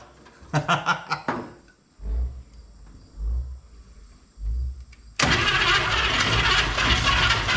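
Old 1955 Chevrolet 210 engine being cranked, trying to start: several loud starter bursts with pauses between them, then a sudden sustained roar of the engine catching and running. No talk.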